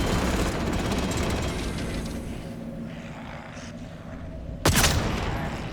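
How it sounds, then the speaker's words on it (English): Sentry guns firing in the game Atomfall, a dense, loud stream of rapid shots that thins out midway before a sudden sharp burst returns near the end. "Yeah, the sentry guns have activated. Oh, they're shooting something."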